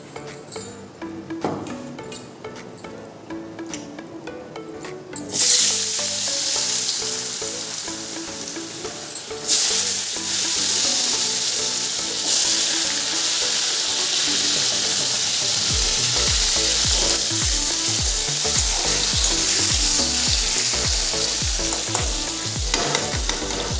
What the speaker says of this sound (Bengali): কাঁচা লঙ্কা আর 5 ফোড়নও দিয়ে দিলাম। আলুটাও একটু ভাজা ভাজা হয়ে গেছে।